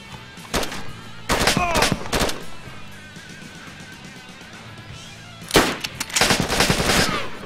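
Gunfire in DayZ from a rifle fitted with a hacked magazine, rapid close bursts of automatic shots in two clusters separated by a quieter gap, with some talk.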